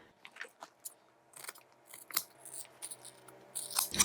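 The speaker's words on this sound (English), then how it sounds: "cut the extra seam allowance from the corners" Scissors snip the extra seam allowance from the corners of a fabric toiletry bag, a run of close, crisp cuts in quick irregular bursts, with a busier cluster of snips at the end.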